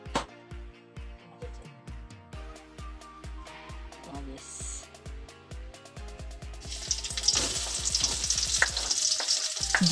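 Steady crackling sizzle of onion frying in hot oil in a wok, with rhythmic clinks of a utensil against the pan, growing louder and denser toward the end.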